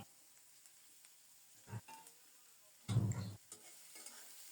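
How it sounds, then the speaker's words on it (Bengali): Chopped onion and garlic are stirred in hot oil for a dried-fish curry, heard as a faint low sizzle broken by a few short, louder scraping stirs and clatters. "এবার নেড়ে চেড়ে পেঁয়াজ রসুন একটু নরম করে ভেজে নেব"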